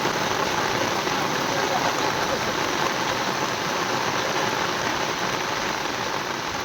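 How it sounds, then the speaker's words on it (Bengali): Heavy downpour drums steadily and densely on an umbrella held close, a continuous loud roar without pauses, outdoors during fishing in monsoon rain. "এত বৃষ্টি হচ্ছে"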